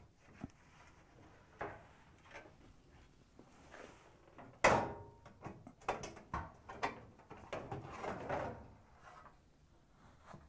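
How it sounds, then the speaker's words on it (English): A Whirlpool, KitchenAid or Maytag washing machine bulkhead panel is pulled up and lifted off its top screws, giving one loud sharp clunk midway and scattered lighter knocks and rattles of panel handling close by. "Pull the bulkhead up and remove it from the top screws."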